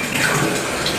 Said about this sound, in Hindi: यहाँ टप में भर रहे हैं पानी को